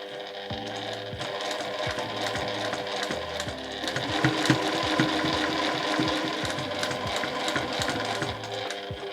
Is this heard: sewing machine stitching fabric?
yes